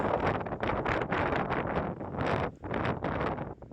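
Strong wind buffets the microphone on an Appalachian Trail mountaintop, a loud, continuous roaring rush that swells and dips in gusts for the whole stretch, with no voices.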